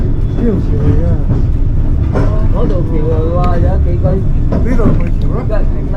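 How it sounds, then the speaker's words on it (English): A White Pass Scenic Railway train rolls along a mountain track toward a tunnel, its steady loud rumble and rattle heard from onboard, with people talking continuously over the noise. "There's the front of the train."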